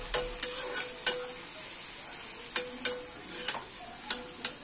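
Spiced chana dal sizzles steadily in a pan while a spoon stirs it, giving sharp scraping clicks against the pan every second or so over a constant hiss, close up with no talking.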